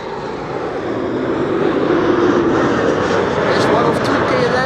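A KLM Embraer 190 jet airliner in SkyTeam livery arriving at Amsterdam Schiphol Airport makes a loud, steady broadband engine roar that swells slightly and holds throughout.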